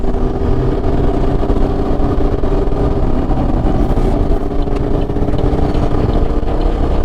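A 2014 Chevrolet Camaro SS/RS V8 pulls hard under acceleration, a loud, steady engine roar with a dense low rumble that holds without a break, no talk over it.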